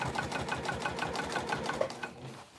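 A sewing machine stitches a bag seam, a quiet rapid run of evenly spaced needle strokes close by, slowing and stopping near the end.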